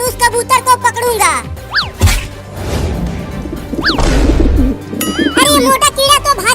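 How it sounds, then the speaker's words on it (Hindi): Cartoon pigeon cooing in a playful Hindi comedy scene, with bright, swooping bird-like calls and a couple of smash-like hits amid busy music and cartoon voices that talk over much of it. "अरे चिंकी, वहाँ देख, वहाँ एक कबूतर नीचे घूम रहा है।"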